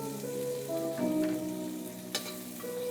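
Shrimp sizzle and fry in a hot pan for homemade fried rice, a steady close crackle with a stir or utensil clack partway through and no talk over it.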